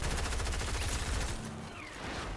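Rapid gunfire in Fortnite crackling in quick repeated bursts, loud at first and then thinning into a quieter, more distant rattle.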